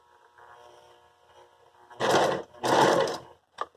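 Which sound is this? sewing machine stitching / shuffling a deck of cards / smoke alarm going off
sewing machine stitching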